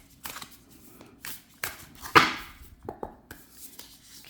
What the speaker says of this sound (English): What I have to do is break it into smaller chunks and riffle shuffle it in sections.